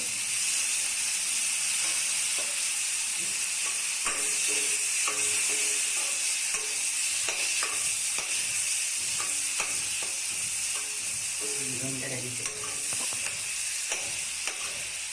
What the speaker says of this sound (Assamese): এতিয়া দিম মই কাটি থোৱা বিলাহী।